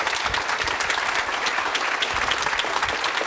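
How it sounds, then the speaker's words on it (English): A room full of people applauding a student panel at a university orientation, dense continuous clapping that holds at an even level throughout with no voices above it. "joining me with a round of applause for our student panel"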